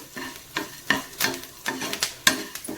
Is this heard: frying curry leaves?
yes